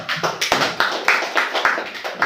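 Small gathering at a union reconciliation meeting bursts into rhythmic clapping, a few hands beating in quick uneven bursts nearby, fairly loud and brief.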